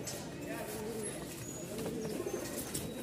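Pigeons coo softly in low, repeated calls at the Mirpur pigeon market while a person talks over them, with steady background noise.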